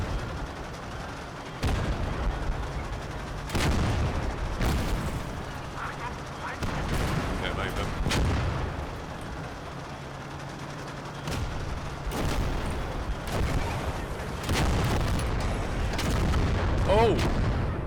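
Artillery fire in the World War II strategy game Call to Arms: Gates of Hell, a series of heavy booming blasts at irregular intervals over about eighteen seconds with rumbling between them, plus faint voices.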